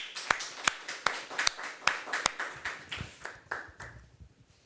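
Small audience at a tech talk clapping after the session, a brief patter of claps starting crisp and rhythmic, then thinning and fading out within a few seconds.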